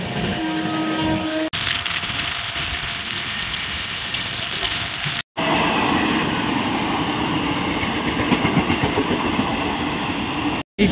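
Steady broadband rumble and rattle from inside a general compartment of the Himgiri Express running at night between Howrah and Jasidih, continuous and loud with two brief dropouts, no talking.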